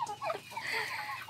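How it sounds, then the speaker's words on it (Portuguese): Farm chickens pecking at corn, giving a brief chorus of clucks and fowl calls at moderate distance, fairly quiet, with a busy bird murmur in the background. "Olha quantas galinhas comendo milho"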